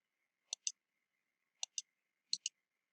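Computer mouse clicking in quiet surroundings, three crisp pairs of close clicks spaced about a second apart.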